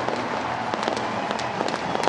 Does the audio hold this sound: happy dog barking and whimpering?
no